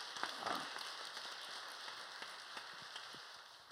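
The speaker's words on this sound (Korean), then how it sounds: "우리 앙상블 할렐루야 찬양대회에서 박수 한번 보내주시기 바랍니다" Applause from a church congregation during an Easter service, a soft, steady patter of many hands clapping at a distance, fairly faint and even throughout with no voices over it.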